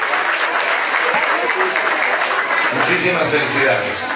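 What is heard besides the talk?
strong applause at graduation ceremony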